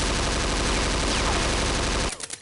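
Automatic gunfire in the Half-Life mod The Specialists: a loud, continuous rapid burst lasting about two seconds, then abruptly stopping with brief trailing echoes.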